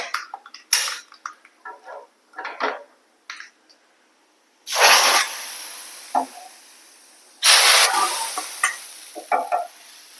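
A hot tempering of mustard seeds and curry leaves is poured into okra sambar, giving two loud bursts of sizzling, each fading out, between scattered clinks and stirring sounds of a spoon and pot.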